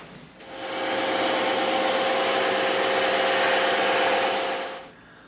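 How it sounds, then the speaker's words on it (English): Bandsaw slicing through 12mm EVA foam, a steady loud whirring hiss that ramps up, holds for about four seconds, then trails off, with no voices. "So we're going to do this edge on the bandsaw and then we'll do the rest by hand."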